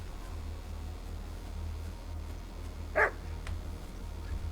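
A single dog bark in the Kingdom Come Deliverance 2 video game: one short, sharp burst at moderate distance over a steady low ambient hum, with no talking.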